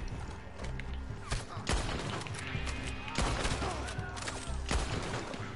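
Gunfire in Red Dead: repeated rapid shots and bursts, loud and close, with mechanical clicks and rattles across the whole stretch and no talk over it.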